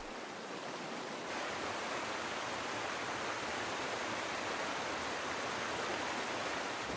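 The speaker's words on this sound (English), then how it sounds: "The torrent charges through the narrow gorges of the ranges, eroding the land." A steady, loud rush of water roars without pause, a dense churning wash of a fast-flowing torrent charging through narrow gorges in Australia.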